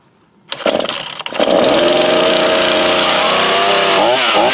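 A brand-new Craftsman 18-inch 42cc chainsaw is started up and fires into a loud, steady engine drone close by. After a short rough sputter it holds a strong, even idle-to-high whine that runs to the end with only a slight wobble.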